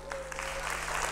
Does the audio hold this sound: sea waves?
no